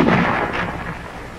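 A single heavy gunfire blast in 1944 wartime Paris, supporting fire from captured houses and rooftops, loud and close with a brief decaying rumble.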